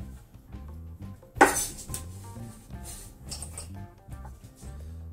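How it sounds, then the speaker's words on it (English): Diced tomatoes are dropped into a bowl with one sharp clink of a utensil against the dish, followed by softer scrapes and taps over a low steady background. "Now that these are diced, I'm just gonna throw them right into the bowl"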